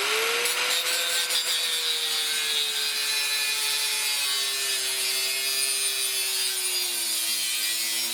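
Power tool cutting through a Subaru exhaust pipe, a continuous, loud whining grind with a slowly wavering pitch that runs steadily for several seconds with no talk.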